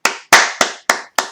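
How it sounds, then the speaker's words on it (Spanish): A lone person claps five times after fixing a VLAN ping problem, each sharp, close slap ringing briefly before the next, in a slow, slightly uneven rhythm. "Vale, pues nos merecemos un aplauso"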